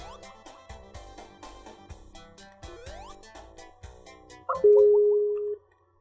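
A phone line beeps with short rhythmic tones amid clicks and a rising tone, then a loud steady tone holds for about a second before cutting to silence.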